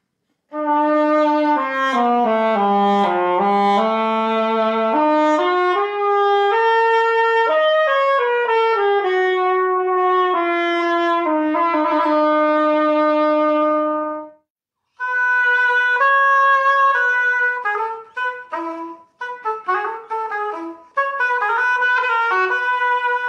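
A Renaissance bombard, a double-reed wooden wind instrument with a bell, plays a reedy, penetrating tune in a lower register, first a long flowing phrase, then a short break and choppier, detached notes.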